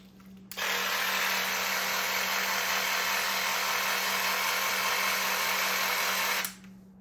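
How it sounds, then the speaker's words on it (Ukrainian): A battery-powered Makita power saw whirs up abruptly, runs at a steady, loud high-pitched drone for about six seconds, then winds down and stops. "Давайте подивимося, як працює дана пила"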